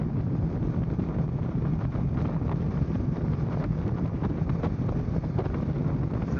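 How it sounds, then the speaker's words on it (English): Constant wind buffets a motorcycle helmet microphone while riding, a dense low roar that holds steady throughout with no break. "It's a little bit windy."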